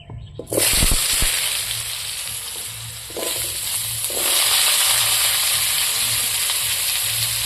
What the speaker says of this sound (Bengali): প্রথমে আমি আলুগুলো ভাজি নিব লাল লাল করে কড়াইতে তেল দিয়েছি